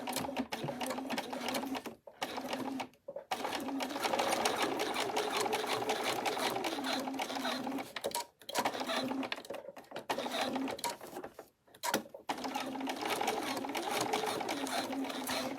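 A sewing machine top stitches a unicorn-pattern bag in chunky glittery fabric, whirring steadily and close in long runs broken by a few brief stops.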